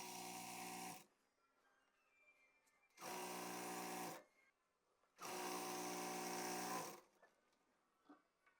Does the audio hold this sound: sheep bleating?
no